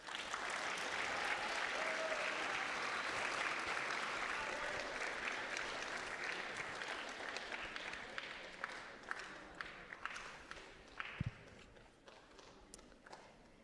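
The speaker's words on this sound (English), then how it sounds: "Please give everyone a round of applause" School awards ceremony audience applauding, a dense sustained clapping from a crowd in a hall that thins into scattered individual claps before fading out.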